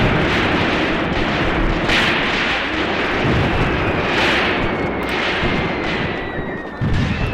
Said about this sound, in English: Alright, some mortars outgoing.